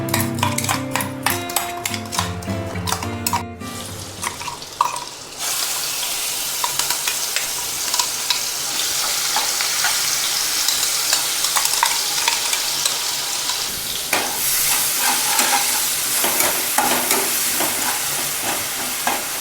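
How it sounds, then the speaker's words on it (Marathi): Green chili and salt paste frying in oil in a pan, opening with metallic clinks and stirring, then a loud, continuous hissing sizzle with scraping, close and without talk. "मिरची हे चांगली भाजून घ्यायची चांगले तळलं पाहिजे"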